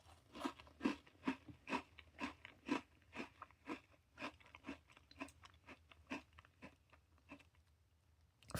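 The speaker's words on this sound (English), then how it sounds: "we do have the crunchiness of the regular Oreo for sure" Close, quiet crunching from eating a red velvet strawberry Oreo cookie, with a steady run of crisp bites and chews repeating about twice a second, with no voices.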